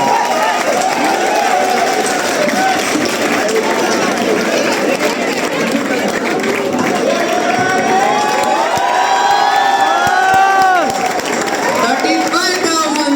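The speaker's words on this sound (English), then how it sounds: "Guys, a big round of applause." A hackathon grand-finale crowd roars for the winning team, with loud sustained cheering, clapping and excited shouting voices filling the hall throughout.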